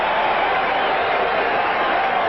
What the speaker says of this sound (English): Reggie White whipping up the crowd.